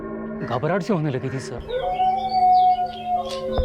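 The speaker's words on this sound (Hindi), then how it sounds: "उस रात को कोई कुत्ता बड़ी डरावनी तरीके से रो रहा था" A dog howls eerily at night in a crime drama, giving a drawn-out, wavering, mournful cry. Someone speaks nervously over the start of it, and the howl then settles into a long, steady wail.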